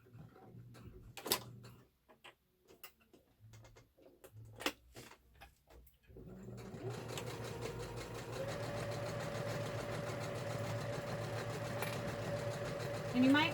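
A sewing machine stitching a fabric bear, first in slow, separate ticks as single stitches are made, then settling into a steady, continuous mechanical whir of running stitches, with a voice talking early on.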